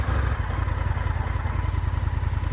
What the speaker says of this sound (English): now we're gonna hit the starter